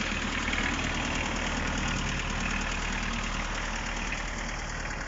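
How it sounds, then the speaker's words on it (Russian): A Mitsubishi MT306 tractor engine drones continuously with its power take-off running, a low, rumbling vibration, loud and even throughout, with no voices. "Вал отбора мощности работает."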